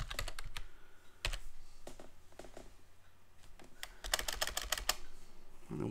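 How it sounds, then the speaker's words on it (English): Rapid clicking keystrokes on a computer keyboard come in bursts with short pauses, close and fairly quiet. The typing gets denser and quicker toward the end. "I'm typing things out of order"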